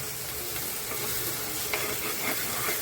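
Chicken masala being sautéed and stirred in oil until the oil separates, giving a steady, close sizzle with soft scraping of the spoon throughout.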